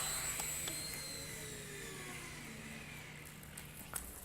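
Walkera Genius CP flybarless RC helicopter whines steadily through an inverted blade landing, its motor and rotor pitch drifting downward, moderately close, ending with a brief sharp tick.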